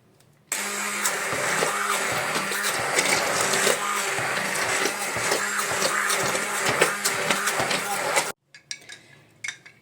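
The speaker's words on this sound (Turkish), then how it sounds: "Şimdi pişen kabaklarımı blenderdan pürüzsüz olana kadar geçireceğim." A blender purees cooked pumpkin, running loud and steady for several seconds with a churning, whirring motor, then cuts off abruptly, leaving faint rattling.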